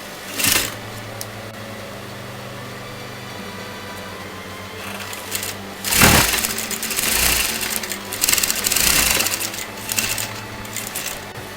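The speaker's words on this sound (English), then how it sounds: "you have to sew that together somewhat like this" A sewing machine stitches fabric for a raglan sleeve in short bursts of rapid mechanical whirring, with quiet pauses between runs and a steady low hum underneath.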